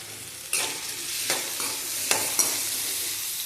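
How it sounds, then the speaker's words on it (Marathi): Chopped tomatoes sautéing in an oiled pan for mushroom bhaji, with a steady hiss of frying and several sharp scrapes of a spatula stirring them, close and fairly loud with no talking. "हे टोमॅटो टाकल्यानंतर आपण त्याला छान परतवून घेणार आहे"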